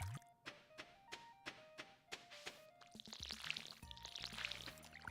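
A watering can is refilled with water in the farming game Stardew Valley, with a quick series of hollow thunks and tones followed by a bubbling, pouring splash with bright chimes, all close and clear with no talk.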